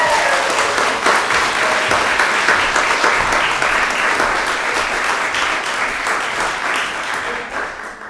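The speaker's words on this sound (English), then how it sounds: "So with a very large, warm round of applause, please welcome the readers to the stage." Loud, warm applause from an evening book launch audience welcoming readers to the stage, thick continuous clapping that fades slightly toward the end.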